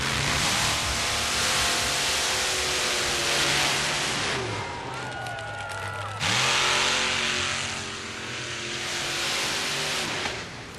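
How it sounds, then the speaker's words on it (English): A Chevy S10 Blazer drag racer with a blown, injected 568 cubic inch Chevrolet engine running on alcohol revs hard and loud, its engine note climbing and dropping through gear changes amid a roaring background. "a Chevy S10 Blazer with a 568 cubic inch Chevrolet engine blown and injected on alcohol"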